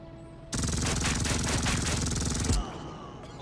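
Rapid machine-gun fire in the World War II strategy game Headquarters: World War II, set in the Ardennes during the Battle of the Bulge, a loud dense burst of shots lasting about two seconds before cutting off, with no voices.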